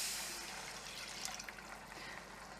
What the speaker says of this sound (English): I'm going to pour in about 375-ish milliliters of milk